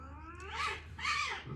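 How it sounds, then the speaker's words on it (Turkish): Two drawn-out cat yowls, one after the other, loud and close, with no talking. "Kediler de konsantremi bozuyor. Arkada ciyak ciyak."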